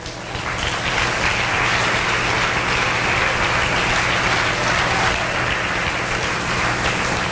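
A church congregation applauding during a sermon: dense, sustained clapping from many hands, steady and loud throughout with no pauses.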